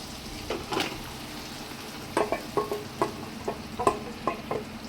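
Chicken leg pieces coated in spice paste sizzle in hot oil, with a steady frying hiss and repeated bursts of stirring and scraping in the pan, close and moderately loud, with no talking.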